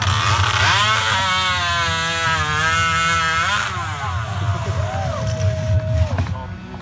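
A chainsaw runs close and loud at a sawing contest at Frontier Days in Fort Dodge, Iowa, its engine whining and revving in a sustained roar before dropping off into crowd noise and another brief rev.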